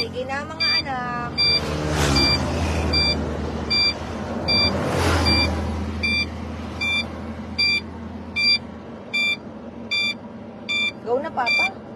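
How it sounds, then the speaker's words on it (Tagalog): Busy street traffic with many cars and trucks passing and idling, while a vehicle's reversing alarm beeps steadily in a regular rhythm throughout; voices talk over the traffic noise. "Ang daming sasakyan."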